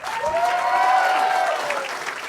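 Studio audience applauding at a televised Australian football entertainment show, loud sustained clapping with cheering and a whistle-like tone running through, steady throughout.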